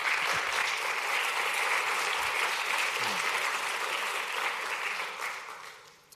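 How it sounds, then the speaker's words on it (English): A warm round of applause from an audience welcoming a marketing data science speaker, steady and dense for about five seconds before thinning and fading out. "Give him a warm applause"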